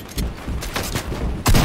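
Video game gunfire: bursts of loud, close rapid shots in several clusters, ending in a heavier booming volley.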